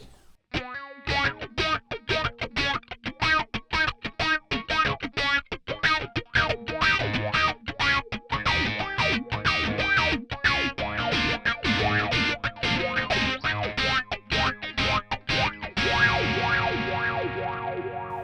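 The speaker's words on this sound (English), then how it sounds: "So it doesn't sound like a wah pedal, it sounds more like a Q-tron kind of thing to me" Electric guitar through a Joyo Vision modulation pedal set to a Q-tron-like envelope filter, with a rapid run of picked notes quacking and sweeping in tone, distorted and echoing, ending in a sustained ringing chord.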